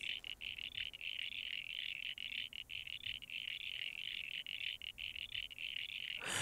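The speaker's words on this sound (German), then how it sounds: "Naja, auf jeden Fall voll der liebe Frosch." A frog in the video game Jazzpunk croaks in a rapid, continuous trilling chatter, steady and fairly close, with brief gaps and an abrupt cutoff at the end.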